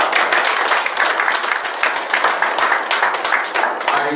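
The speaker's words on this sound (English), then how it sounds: "Can we give them a round of applause?" Applause from a dinner audience for gold medalists at a Nigerian ministerial sports event, dense steady clapping throughout, loud and close, with no talk over it.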